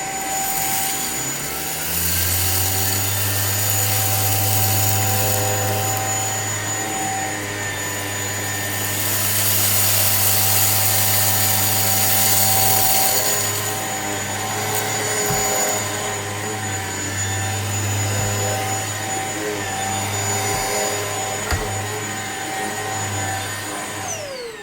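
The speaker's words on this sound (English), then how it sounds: "you can actually just use the power head of the vacuum cleaner." A Shark Apex Uplight vacuum cleaner's power head runs continuously with a loud, steady motor whine and airy rush, swelling slightly in the middle as it is moved around, with no talking.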